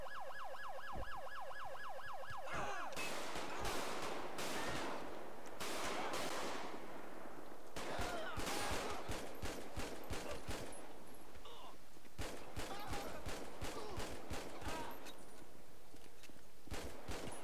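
Gunfire in the video game FiveM (GTA V), a dense run of loud rapid shots in bursts over a steady electronic tone at the start and background noise throughout, heard up close.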